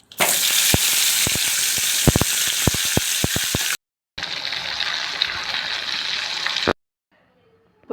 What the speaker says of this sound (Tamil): நண்டு வந்து மசாலாலாம் போட்டு எண்ணெயில் போட்டு பொரிச்சு எடுத்துருக்கோம்